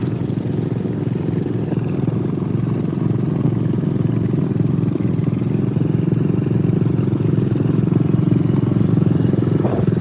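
A John Deere riding lawn mower engine running steadily with an even mid-pitched putter and mechanical clatter, loud and close throughout, with no voices.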